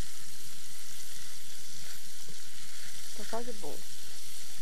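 Bacon sizzling and frying in a cooking pan, rendering fat for a broth, a steady hiss running throughout with a brief voice speaking near the end.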